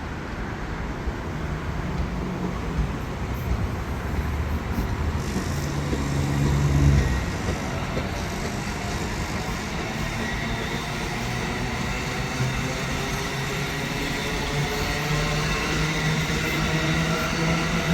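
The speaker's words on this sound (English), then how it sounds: "So now the Aero 3 and the Keystone Corridor train both start moving at last." Amtrak and NJ Transit Keystone Corridor trains begin rolling at Metropark station on the Northeast Corridor, giving a steady low rumble of moving rail cars with a brief heavier surge near the start.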